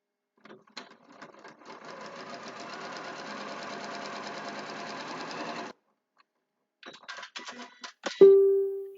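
A sewing machine runs steadily for about five seconds with a fast, even mechanical chatter, then stops abruptly, followed by a few scattered clicks and a short sustained tone.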